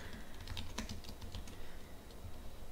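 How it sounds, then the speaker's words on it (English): Steady clicking of keys on a computer keyboard as markdown content is typed, a quiet, close run of irregular keystrokes with no voices. "you can just type in any sort of like markdown content that you want"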